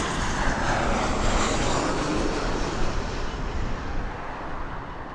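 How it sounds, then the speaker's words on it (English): Southwest airliner taking off at Las Vegas Harry Reid International Airport, a loud broad jet roar that holds steady and slowly eases, heard from a distance with no talk. "that other Southwest flight just took off"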